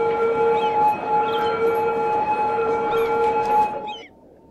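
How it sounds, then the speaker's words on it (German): An emergency vehicle siren in the city-building video game Cities: Skylines, a loud steady wailing tone with layered pitches that holds for about four seconds and then cuts off abruptly, leaving a quieter background. "Nervt dieses Tatütata."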